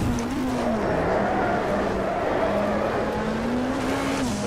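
A BTCC Super Touring race car at Croft is driven under heavy throttle, its engine note loud and close with a steady drone that dips and climbs again between shifts, with faint tire noise beneath.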